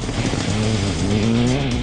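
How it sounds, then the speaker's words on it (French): Skoda Fabia rally car on a gravel rally stage during the French championship drives past with a loud, rising engine note and a strained, climbing tone over steady road and tyre noise. "La Skoda précède la voiture sœur de Julien Morin en phase de découverte."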